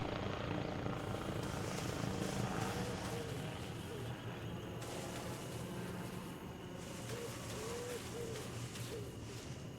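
A helicopter in the military video game Arma Reforger thrums with a continuous steady rotor chop, fairly close and dominant throughout, with faint bird-like chirps in the background.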